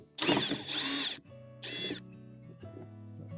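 A power drill backing screws out of an old mailbox mounted on a post outdoors, with two close bursts of whining motor, the first longer, then lower mechanical rattling and a brief tool hum afterward.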